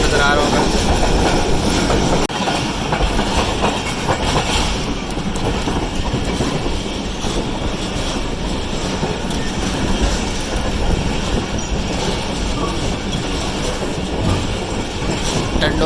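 The 48 Down Rehman Baba Express pulls into Tando Adam station, a steady loud rumble of rail cars with clattering wheels and faint squeals throughout, heard from on board with some talk in the background.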